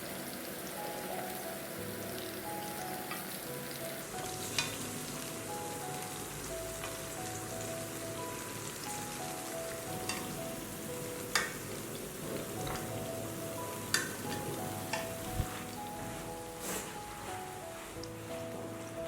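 Beef skewers blanch in a pot of boiling water seasoned with light soy sauce, giving a soft, continuous bubbling and sizzling with occasional sharper pops, quiet and close.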